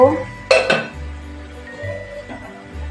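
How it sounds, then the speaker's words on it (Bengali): A lid lifted off a pan of barbecue chicken gives a couple of sharp metallic clinks and clatters close by, followed by a low hum and quieter cookware rattles. "ঢাকনাটা উঠিয়ে নেব"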